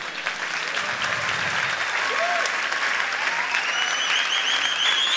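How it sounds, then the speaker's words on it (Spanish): A church congregation applauds, a broad continuous wash of clapping from a large crowd, with faint voices mixed in. "si vamos a aplaudir, hagámoslo bien"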